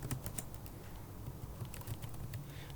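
Rapid light clicking of computer keys as someone types a database procedure, soft irregular taps with brief pauses over a faint background hum.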